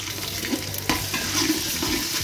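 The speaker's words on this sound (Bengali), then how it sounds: "এবার আমি আদা রসুন বাটাটা দিয়ে দেব।" Ginger-garlic paste hitting hot oil for a Bengali khichuri and being stirred, giving a steady close sizzle with a brief scrape and a few soft clanks of the spoon against the pan.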